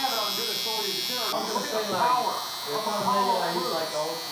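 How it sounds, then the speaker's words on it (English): Stylecraft Rebel hair trimmer lining up hair, a steady close electric buzz running throughout beneath someone talking. "this trimmer is lining up pretty good"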